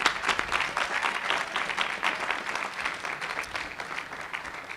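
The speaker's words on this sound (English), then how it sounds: "So let's give them a round of applause" Graduation crowd applauding at an undergraduate commencement ceremony for the Class of 2017, a dense steady wash of many hands clapping that fades slightly toward the end, with no voices over it.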